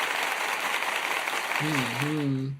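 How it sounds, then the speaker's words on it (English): Audience applause for an 81st birthday on a talk show, steady dense clapping throughout, joined near the end by a voice speaking over it before it cuts off. "that deserves a wonderful, great big round of applause"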